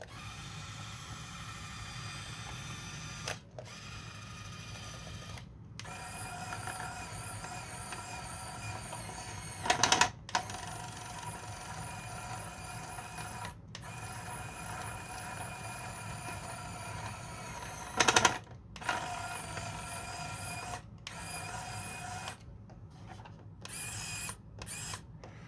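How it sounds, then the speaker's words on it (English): Small electric motors of a 3D-printed RC forklift whir and buzz steadily for the whole stretch, close up and fairly loud, with brief pauses and a few louder surges as they stop and restart. "Let's turn it back on. Both motors are working."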